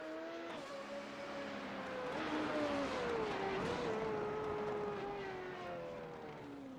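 A race car engine revs steadily through a practice start, a sustained drone that rises and dips in pitch over several seconds, moderately loud and without talk.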